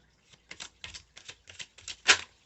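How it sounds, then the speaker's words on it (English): Tarot cards being shuffled in a series of short papery riffles and taps, close and fairly quiet, ending in one sharper louder slap, with no talk. "I've been shuffling for a while."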